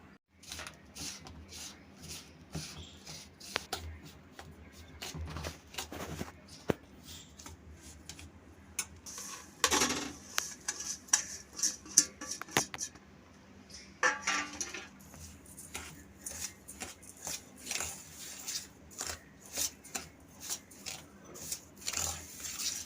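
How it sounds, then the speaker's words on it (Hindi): Spices for lasoda pickle being stirred and mixed in a bowl, faint scraping and clinking taps of a spoon against the vessel, irregular and close, with no talking. "तो अभी इन सब मसालों को हम मिक्स कर लेते हैं।"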